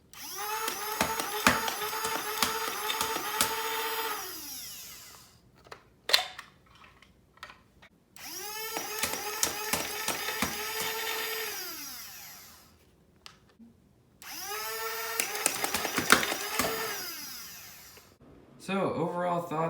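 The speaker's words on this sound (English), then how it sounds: "let's go see this thing fire." A Worker Hurricane foam dart blaster fires in three long bursts, its flywheels whining up, holding a loud buzzing drone with rapid clicks, then winding down between bursts, with a short fourth burst at the end.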